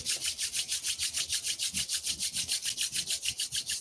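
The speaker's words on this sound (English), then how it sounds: "Bring your hands in front of your face. Rub them vigorously." Hands rubbed together vigorously make a rapid, even swishing friction, about seven strokes per second, close and soft, continuing steadily with no talking.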